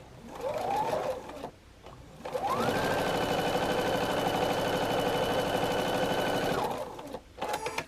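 A sewing machine stitches a quilt block in two runs, a short burst followed by a pause and then a longer steady stretch of fast, even whirring, close and loud, winding down at the end with a brief sound after.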